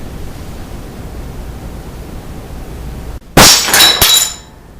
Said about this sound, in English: This time, the plane broke the glass